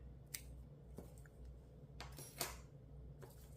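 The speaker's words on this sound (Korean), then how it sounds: "마지막도 실을 20cm 정도 남겨두고 잘라줍니다" Scissors snip through knitting yarn while making a tassel, a few soft, close cuts with quiet pauses between them and no talking.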